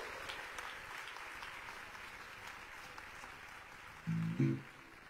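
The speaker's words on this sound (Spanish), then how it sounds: "Apláudalo si lo va a aplaudir con toda el alma," Congregation applauding at a church service in Calamar, Bolívar, a soft, distant, steady patter of clapping, followed near the end by a short burst of low, loud sound.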